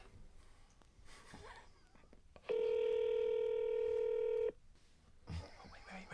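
Google Voice call connecting: a loud, steady electronic tone holds for about two seconds between stretches of quiet background noise and faint voices.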